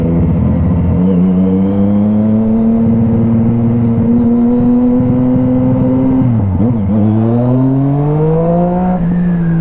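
A Yamaha MT-09 motorcycle engine revving while riding, loud and close with a steady droning tone that holds, dips briefly and climbs again as the rider shifts and accelerates, with no talk.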